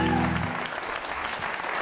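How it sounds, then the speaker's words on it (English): Concert audience applause after a band's set, a dense burst of clapping from a crowd as a sustained note fades out at the start. "Give him a round of applause"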